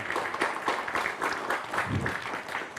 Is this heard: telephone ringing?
no